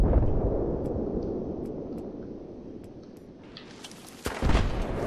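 Mortar fire in a military video game: dense, rumbling low-end blasts fill the stretch, with a sharper, brighter impact near the end standing out over continuous battle noise.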